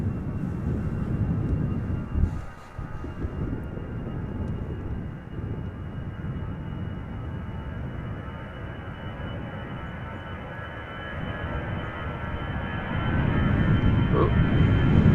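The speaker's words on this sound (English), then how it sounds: "standing on the threshold, ready to go to Liverpool is EasyJet flight 23442. A320-200, 12 years old" An easyJet Airbus A320-200, twelve years old and bound for Liverpool, roars on takeoff as a low, steady rumble that builds toward the end, with wind buffeting the microphone.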